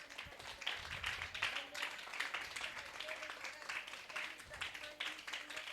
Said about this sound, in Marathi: जोरात, जोरात टाळ्या वाजवा रे